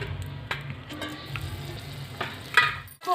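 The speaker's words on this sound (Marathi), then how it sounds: "आता तेलमध्ये चांगलं परतून घेते।" Ground coconut, coriander and fresh garlic masala fries in oil in a hot kadhai, giving a steady close sizzle with occasional soft stirring scrapes and clicks.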